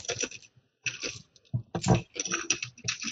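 A large handful of dice rummaged and rolled during a tabletop Dungeons & Dragons session, bursts of dense plastic clicking and rattling separated by short pauses, close and crisp.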